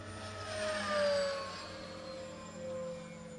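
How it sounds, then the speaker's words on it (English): An E-flite RV-7 radio-controlled model airplane makes a full-speed flyby, its high motor whine swelling and Doppler-shifting as it passes close, then fading and briefly returning in the distance, with no voices. "I'll show you a full speed flyby to give you an idea of how fast this little thing is"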